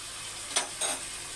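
Food sizzles steadily in a frying pan as curry leaves go in, with two brief bursts of louder crackle over the constant hiss.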